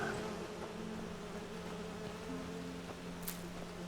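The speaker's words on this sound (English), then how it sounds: "I heard bees." Bees buzzing steadily around a small honey farm in the video game Enderal, a Skyrim total overhaul mod, a continuous droning hum holding level throughout with a brief faint chime partway through.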